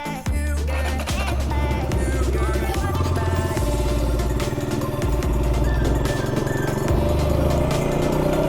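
A KTM Duke 200 motorcycle rides along a road, its engine droning steadily and loud throughout with low rhythmic pulses and wind rush, no speech over it.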